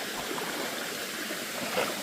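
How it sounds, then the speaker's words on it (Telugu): Water rushing steadily at Palakondalu waterfall near Kadapa, where flowing stream water makes a continuous, even broadband wash with no breaks or voices. "ఇక వాటర్ ఫాల్ చూడండి ఇక్కడ వాటర్ స్టోర్ అయి ఉంది"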